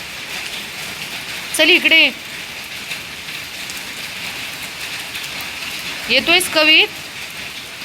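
Steady rain falls on an open hilltop with no shelter, a constant broad hiss throughout, while a person calls out twice in short bursts over it.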